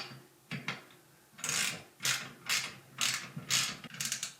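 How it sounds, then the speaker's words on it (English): A ratchet with a 10mm socket tightens a bolt on a Honeywell HV-180 floor fan, giving a run of six or seven crisp, evenly spaced clicking bursts that sound close and clear with no talk over them. "we tighten the bolt with the 10mm socket"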